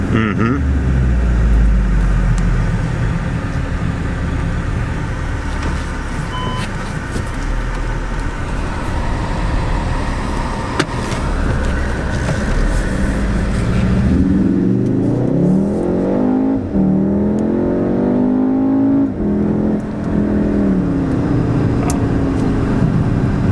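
A new VW Golf R engine revs hard at full throttle and climbs in pitch under acceleration, loud and close, with people talking over the noise inside the cabin.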